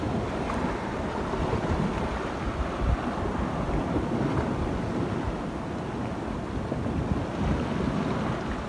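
Ocean waves surge and wash close by along a shore at a fishing spot, with wind buffeting the microphone in a steady, rolling roar and no voices.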